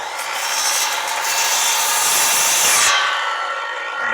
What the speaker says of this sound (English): I'm going to lean the board toward the saw and hold it to make the rest of the notches